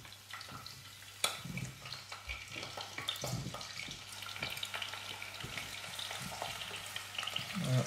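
Petit Violet artichokes frying in fairly hot oil in a pan, a soft continuous sizzle with occasional clinks and stirring knocks, quiet and close.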